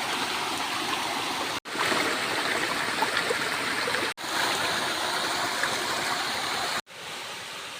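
A river stream rushes steadily over rocks, a loud, close, continuous wash of water broken by a few brief cuts, with no voices.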